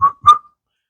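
A person whistling a tune, two short clear notes close and loud, then silence.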